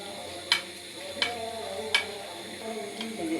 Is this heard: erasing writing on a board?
no